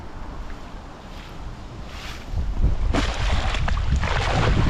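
Strong cold wind buffets a fishing boat out at sea, rushing and roaring against the microphone and growing louder and gustier partway through, with no talking.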